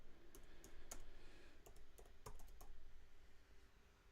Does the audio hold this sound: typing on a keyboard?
yes